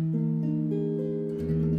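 A single guitar chord rings out sustained and clear, with a brief shift in the notes partway through.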